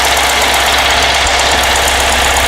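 A rebuilt Porsche 912 engine runs steadily, a loud, close, continuous mechanical drone with a rough, knocking idle throughout.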